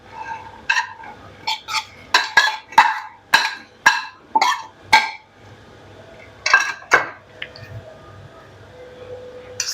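Shredded cabbage being added to a bowl for a potato paratha filling, heard as a quick run of close, crisp clinking and thudding hits on the bowl, then a few more after a pause.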